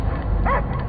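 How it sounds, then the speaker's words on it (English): A dog's short bark and whine in the video game Guardians of the Galaxy, one brief yelp over a low rumbling game background. "I hear only barking"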